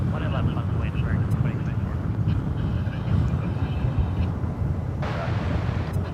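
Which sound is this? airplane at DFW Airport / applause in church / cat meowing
airplane at DFW Airport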